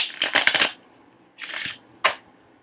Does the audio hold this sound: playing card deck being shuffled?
yes